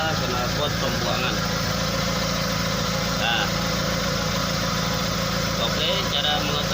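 Pickup truck engine idling with a rough, snoring exhaust note caused by a leaking exhaust pipe, a loud continuous close drone while someone speaks over it briefly.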